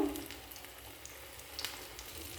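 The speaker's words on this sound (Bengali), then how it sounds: "আবারও একটা মাছ বেসনের ব্যাটারে ডুবিয়ে টোস্ট বিস্কুটের ডুবিয়ে তেলে ছেড়ে দিলাম" Parshe fish coated in gram-flour batter and biscuit crumbs fry in oil with a faint, steady sizzle and a few sparse pops after an initial splash, quiet and unaccompanied by speech.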